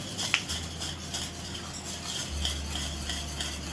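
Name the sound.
stirring yogurt masala in pan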